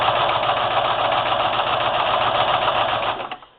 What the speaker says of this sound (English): as far as the machine sewing through the plastic, I don't notice any difference whatsoever from regular sewing